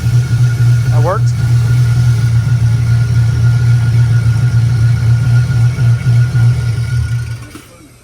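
Car engine running on a dyno, a loud, steady low drone held for several seconds, with a brief voice early on, before the engine winds down and fades near the end.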